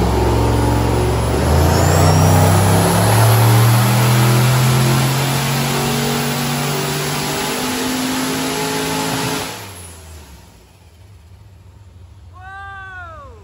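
A Holden Senator engine revs hard on a dyno for about ten seconds, a loud sustained roar with rising pitch, then cuts off and winds down, leaving quieter mechanical noise.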